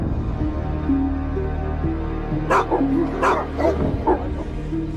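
A dog gives several sharp barks and yips in an uneven cluster partway through, close and fairly loud over a low steady background hum.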